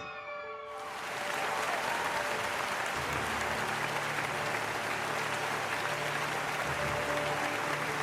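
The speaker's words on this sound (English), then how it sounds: "As best outgoing students, they deserve a good round of applause, dear children." Loud, sustained audience applause at a school annual day celebration, starting abruptly after a brief quiet moment and continuing as a dense wash of clapping from a large crowd of students and guests.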